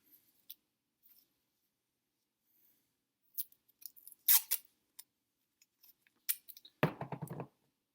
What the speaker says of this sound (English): Now I'm going to take a piece of masking tape,